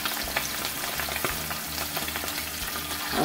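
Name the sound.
boneless skinless chicken thighs frying in oil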